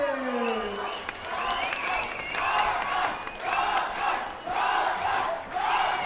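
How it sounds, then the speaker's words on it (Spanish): A basketball crowd at a tournament final in Tamazulapam del Espíritu Santo applauds and cheers loudly and continuously, with whoops and shouts rising in waves over steady clapping. "Aplausos, público presente"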